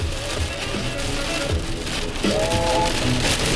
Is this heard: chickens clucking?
no